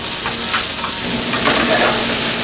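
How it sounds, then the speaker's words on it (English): Red onion and garlic cloves sizzle steadily in hot olive oil in a pan, a dense continuous crackle with faint stirring scrapes, close and alone. "get that real nice and hot, add the red onion, and the garlic cloves"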